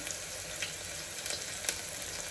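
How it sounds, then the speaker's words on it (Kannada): Ingredients for mushroom pulao sizzle and fry steadily in a hot pan, a continuous crackling hiss with occasional sharper pops and stirring scrapes, close and alone. "ಚೆನ್ನಾಗಿ ಹಸಿ ವಾಸನೆ ಹೋಗೋ ತನಕ ಫ್ರೈ ಮಾಡ್ಕೊಳ್ಳೋದು."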